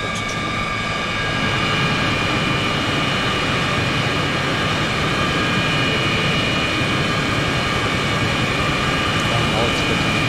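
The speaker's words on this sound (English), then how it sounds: "The aircraft will take off from the left side of catapult 2." A jet fighter launching from a carrier catapult in Arma 3, heard as a loud, constant roaring engine with high whining tones, sustained and close throughout.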